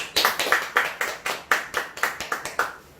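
Buddhist temple gathering clapping in congratulation for a newlywed couple: a dozen or so distinct hand claps in a loose, fairly even rhythm, close and clear, tapering off at the end.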